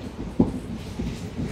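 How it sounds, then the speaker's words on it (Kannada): Mysuru–Talaguppa express train running at about 85 km/h: a steady low rumble of wheels and carriage, with a single heavier thump early on and no voices. "ನಮ್ಮ ಟ್ರೈನ್ ಬಂದುಬಿಟ್ಟು 85 km/h ಆದರೆ ಹೋಗ್ತಾ ಇದೆ ಇವಾಗ"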